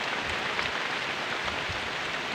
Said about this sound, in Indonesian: Malah hujan ya teman-teman.